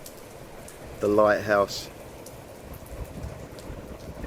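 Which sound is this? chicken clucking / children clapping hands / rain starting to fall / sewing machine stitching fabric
rain starting to fall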